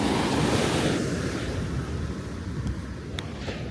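Ocean surf washing onto the beach at Cape May in late summer, a steady broad roar of breaking waves with wind buffeting the microphone, loud and continuous throughout with no voices.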